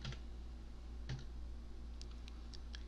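Quiet computer keyboard typing during a C# programming lesson, a few scattered clicks and short bursts of keystrokes over a steady low hum, close by and faint.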